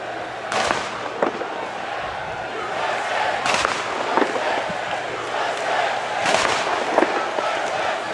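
Artillery guns fire booming salute rounds at a military parade, three loud blasts roughly three seconds apart over a steady outdoor crowd murmur with scattered voices.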